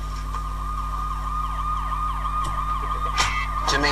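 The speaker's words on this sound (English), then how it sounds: "The ambulance has just turned up and stuff." An ambulance siren wails steadily at a roadside accident scene, loud and constant over the whole stretch, with a few sharp knocks and rustles close by near the end.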